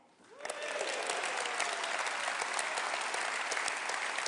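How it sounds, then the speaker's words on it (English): Applause swells quickly from a conference audience at a UK Liberal Democrat party leader's speech, then holds as dense, steady clapping from a large crowd. "Maybe, Shafak, you could start the applause again."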